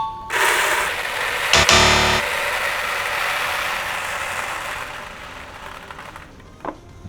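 Base malt grain pours from a Keg King Grainary dispenser made from a 35-liter fermenter tank, a steady loud hiss of flowing grain with a short rattling clatter early on that slowly fades toward the end.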